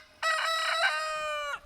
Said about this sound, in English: He's going to crow right about now.